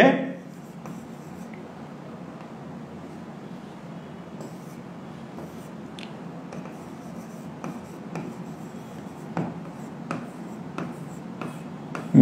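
Chalk or marker strokes on a classroom board, a series of short scratching and tapping marks, faint and close, spread through a quiet room with a teacher speaking in between.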